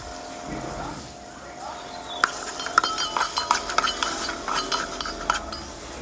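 Frying onions for biryani in a pan, stirred with clinking utensil scrapes and taps that grow busier after the first couple of seconds, over a steady low sizzle.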